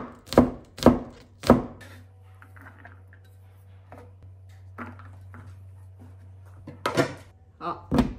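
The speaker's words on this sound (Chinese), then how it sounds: "再切一些葱花。" A knife chops scallions on a cutting board in a home kitchen, three sharp, evenly spaced thuds at first, a few softer taps in the middle, then another quick burst of chops at the end.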